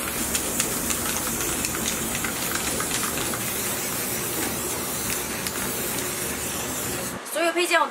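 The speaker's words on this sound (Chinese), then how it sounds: "接下来我就开始给这些配件喷漆" A spray gun paints diesel engine parts, giving a continuous broad hiss that runs steadily for several seconds before cutting off, followed by a short burst of other noise.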